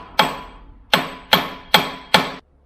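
Five sharp metallic hammer strikes on a rusty Bedford truck chassis being dismantled land at a steady, unhurried rhythm, each ringing briefly before the next blow.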